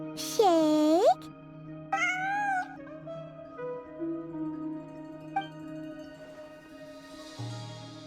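A cat in the video game Genshin Impact gives several drawn-out meows in separate bursts, loud and close, spaced over several seconds against a quiet game background.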